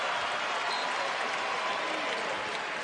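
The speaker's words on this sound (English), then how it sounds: "and an applause from the crowd." Steady applause from a crowd at a North Carolina versus Gardner-Webb college basketball game, a dense, even wash of clapping that holds at one level for the whole stretch with no voices standing out.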